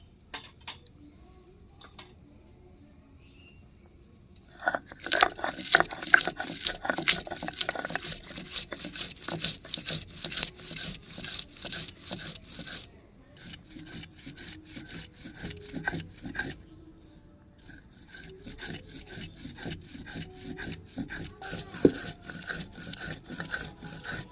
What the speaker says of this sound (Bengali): একসঙ্গে ধনেপাতা, পুদিনা পাতা আর কয়েকটা কাঁচা লঙ্কা আমি বেটে নিচ্ছি।